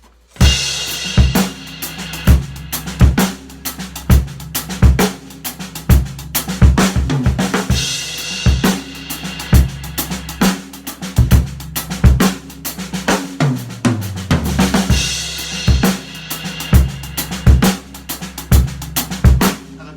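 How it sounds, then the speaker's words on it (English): A drum kit plays a steady, loping half-time shuffle groove, with heavy backbeat snare hits, kick drum and swung cymbal pattern throughout. "This is the In the Gaps halftime shuffle."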